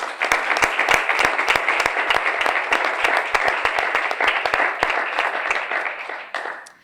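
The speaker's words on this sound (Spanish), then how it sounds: "os pido ya un aplauso de bienvenida para Alicia Sin" Warm welcoming applause from an audience at a Spanish talk event, loud, sustained clapping with sharp individual claps standing out, easing off near the end.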